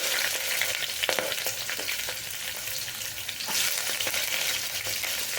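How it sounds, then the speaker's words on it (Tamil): Onions fry in oil in a pressure cooker with bay leaf, cinnamon, cardamom and cloves, a continuous crackling sizzle with scattered spatula scrapes and taps. "வெங்காயம் வந்து நல்லா கலர் மாறுற அளவுக்கு வணக்கிக்கோங்க"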